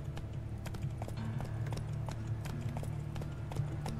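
Quick, rhythmic clip-clop of a horse galloping in The Witcher 3, steady hoofbeats over a low in-game rumble with no speech.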